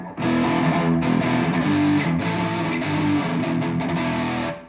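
A distorted electric guitar with scooped mids and boosted bass and treble plays a sustained, heavily saturated chord riff, loud and steady without any talk.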